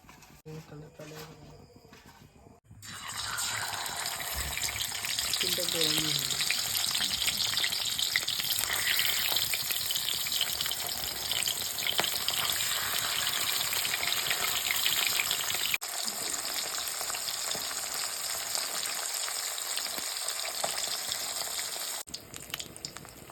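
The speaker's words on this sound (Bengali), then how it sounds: "পরিমাণ মতো হলুদ আর স্বাদ মতো নুন দিয়ে দিলাম মাছটাকে ভাজার জন্য" Pond fish coated in turmeric and salt frying in hot oil in a wok: after a quiet start with a voice, a loud, steady sizzle takes over and runs on with small spatters before cutting off near the end.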